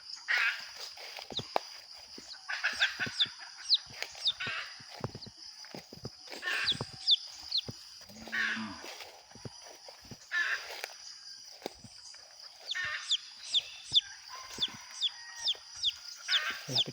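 A wild talisayin red junglefowl hen, accompanied by a chick, clucks outdoors in repeated short bursts of sharp calls separated by brief pauses, moderately near, with thin high chirps mixed in.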